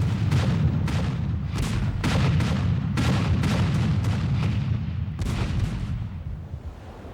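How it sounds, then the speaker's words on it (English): Warships of two squadrons firing cannon broadsides at close range in a naval battle: a steady, loud rumble of heavy booming blasts, with sharper reports repeating roughly every second and slowly fading toward the end. "soon the lead ships of both squadrons were firing broadsides at almost musket range"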